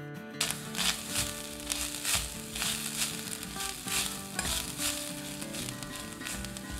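Finely grated whole coconut sizzles in ghee in a kadai while sweet modak filling is prepared, a steady close crackling fry with soft stirring scrapes running throughout, no voices over it.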